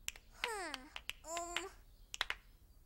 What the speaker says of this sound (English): I want you to clap your hands with me as I snap my fingers